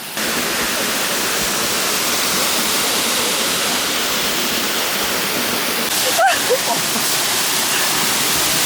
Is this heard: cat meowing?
no